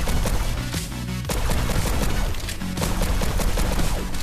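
Video game gunfire pours out in dense, continuous bursts, loud and rapid, with a short lull before the shooting resumes heavily.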